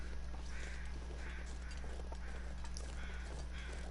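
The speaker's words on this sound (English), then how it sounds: "I hear you, crows, but I don't see you, buddy." Crows caw faintly in a low, droning outdoor soundscape in The Long Dark, with several calls spaced across a steady background hum.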